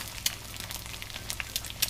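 Egg frying in a pan, seasoned with salt and black pepper, giving a steady close sizzle with scattered sharp crackles and pops.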